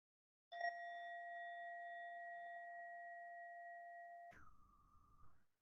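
Meditation bell with a clear, sustained ring of pure tones that holds steady for about four seconds in quiet surroundings, then cuts to a brief, brighter second chime that fades quickly.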